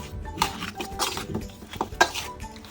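Chicken being stirred with three to four spoons of oil in a bowl for chicken do pyaza, giving close, irregular wet scraping and clinks of utensil against the bowl with no talk.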